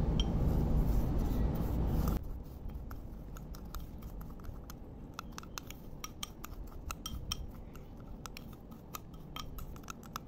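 Homemade lip scrub with red liquid food colouring being stirred, giving a steady gritty scraping and rubbing with repeated small clicks of a utensil against the container, close and continuous after a brief louder opening.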